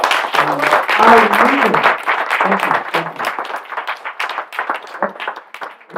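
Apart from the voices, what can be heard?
audience applause for the speakers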